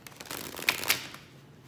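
Tarot cards being shuffled by hand, a quick papery riffle with two sharper snaps of the deck, close and fairly quiet, with no talking.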